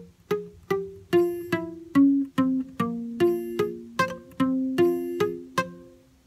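Guitar picks out the introduction to a song in a steady, evenly paced run of plucked notes, each ringing briefly, played alone with no talking.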